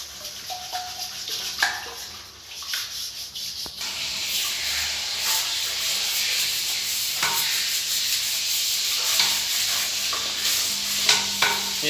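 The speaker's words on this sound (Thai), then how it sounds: "หลังจากที่เราขัดไปได้สักพักนะครับ ก็จะเห็นความสะอาดของเขานะครับ" A toilet bowl is scrubbed with vinegar and baking soda, producing continuous close rubbing and scraping with a fizzing hiss and scattered sharper brush strokes.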